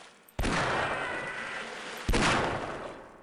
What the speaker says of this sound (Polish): Jeden strzał, drugi strzał.